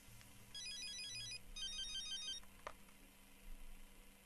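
A personal telephone rings with two short electronic trilling bursts close by, followed by a faint click and low room hum.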